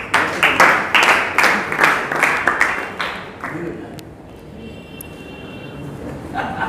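An audience at a welcome ceremony for a Swami breaks into loud applause that fades after a few seconds, leaving quieter room noise.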